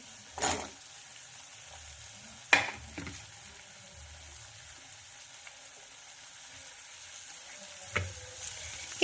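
Finely chopped onion hits hot oil in a pan for a sprouted moth bean curry, giving a steady soft sizzle with a few sharp clatters of a spoon against the pan.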